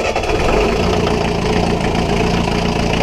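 Diesel engine of a Tartan 37 sailboat idling at low RPM, heard up close as a steady, loud, rough low rumble.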